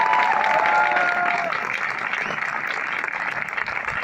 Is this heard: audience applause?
yes